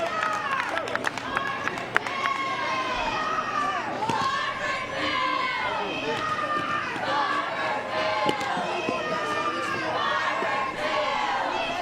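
A crowd at a 2018 Little League Southeast Regional baseball game in Barboursville, West Virginia cheers and roars steadily throughout, with a commentator talking over the noise.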